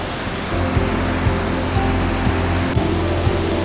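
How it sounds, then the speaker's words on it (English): Waterfalls cascade through a gorge in the Black Forest, a loud, steady rushing roar of falling water heard close up with no voices. "Just cascading falls coming down through this gorge."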